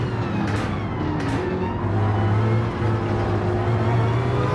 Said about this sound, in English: Now the BMW sounds great. It's the smallest motor on the field, but it's the highest revving.